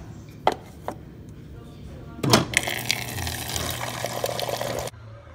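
After a couple of sharp knocks, a steady rush of water runs into a container for a couple of seconds, then stops abruptly.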